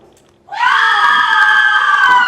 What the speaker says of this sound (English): It is the cry of women, my good lord.